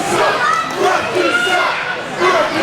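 A crowd at a live wrestling event jeers the referees, a loud sustained roar of shouting voices that swells and ebbs, with commentary running underneath.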